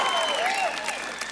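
A convocation audience at Trent University applauds, dense clapping mixed with cheers and whistles from a large crowd, sustained and fairly loud throughout.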